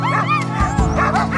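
Sled dogs on an Arctic dogsled tour in Kiruna, Sweden bark and yip excitedly in quick overlapping bursts, close and loud, with a whimper between calls.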